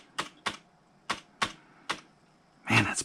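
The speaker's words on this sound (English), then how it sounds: "Hitting that delete key." Keys clack on a cheap wireless Logitech keyboard as the delete key is hit: five crisp, close taps in an uneven rhythm, then a louder, rattling burst of keystrokes.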